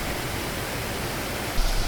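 Waterfall about a metre from a hiking trail in Seoraksan, loud steady rushing water that fills the scene, with a brief louder splash near the end and no voices.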